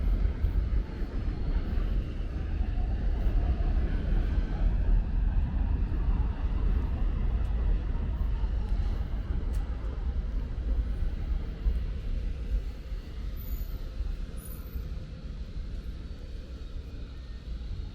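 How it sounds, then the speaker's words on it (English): Low rumble of an NYC subway F train arriving at Bay Parkway station, a steady, heavy roar that slowly eases off, with city background noise around it. "looks like an F train is pulling into the station right now."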